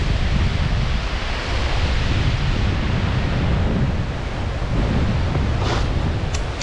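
Strong wind roars across the Mt. Wittenberg summit in the Catskills, a loud, continuous buffeting rush hitting the microphone with no pause, swelling and easing slightly throughout.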